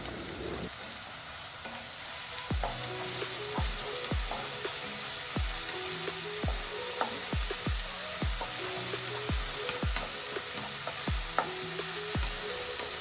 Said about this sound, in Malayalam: വെളിച്ചെണ്ണ ഒന്ന് ചൂടായി വരുമ്പോൾ നമ്മുടെ വെളുത്തുള്ളി, ഇഞ്ചി, പച്ചമുളക് പേസ്റ്റ് ഇടേ